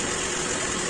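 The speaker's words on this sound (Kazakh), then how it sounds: "Енді газ басып көреміз." A Volga 31105 car engine runs loud and close, a steady dense mechanical drone throughout the brief moment with no voices.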